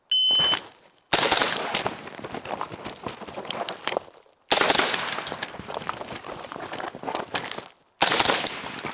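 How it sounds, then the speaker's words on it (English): Gunshots from a shooting drill, fired in quick loud bursts separated by short silent gaps, sharp repeated cracks close to the microphone with no talk over them. "fire 2 rounds to the A-zone, then move to the second position"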